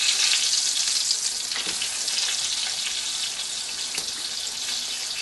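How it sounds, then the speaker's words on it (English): Squash and zucchini sticks frying in hot grease, a loud, dense, steady crackling sizzle with no pauses, close up and with no one talking. "set it right down there in the grease, and fry them up"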